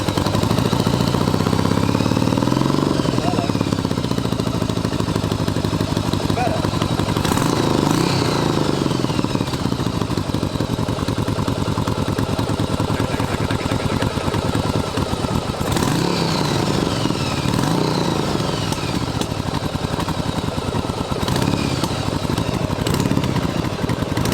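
A small engine runs steadily after starting, a loud, close, buzzing drone with rhythmic throbbing and slight rises in revs, continuing without pause and with no talking.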